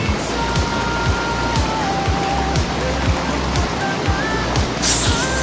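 Clean mountain stream flowing steadily in a lush outdoor spot, a continuous broadband rush of water with bright splashy texture, close and fairly loud, with faint tonal chirps above it and no talking.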